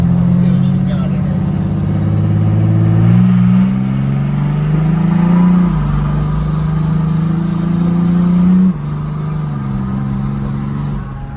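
A stock-tuned custom truck's engine revs and pulls away from the curb, its steady drone rising in pitch in stages as it accelerates, loud and close throughout, with people talking over it.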